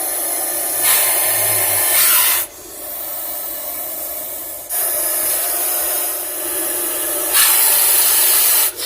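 An angry Russell's viper hides under a bed and gives loud, breathy hisses in long bursts, three or four sustained blasts with short quiet gaps between them, close by and with no voices.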